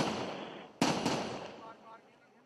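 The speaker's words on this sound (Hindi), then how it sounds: "शायद आपको सुनाई भी होगी, इसमें फायरिंग हो रही है अभी।" Gunfire during an armed encounter at a police station under terrorist attack, heard as two sharp, loud shots close together that ring out and echo, with a crowd and voices murmuring underneath.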